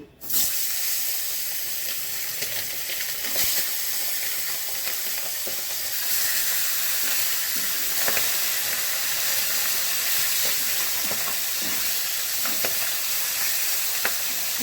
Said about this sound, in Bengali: প্রথমে এই মাছের মাথাগুলো ভেজে নিচ্ছি।